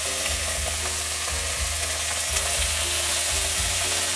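Boneless beef short rib pan-frying on a gas stove, a steady close sizzle with low hum throughout, broken by faint scraping or stirring touches.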